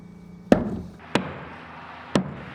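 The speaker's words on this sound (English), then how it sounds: "As we nail this off" Three sharp, separate hammer blows drive nails into plywood floor sheathing on framing, each a loud close thud with a short ring-out, spaced unevenly across a couple of seconds over a quiet background.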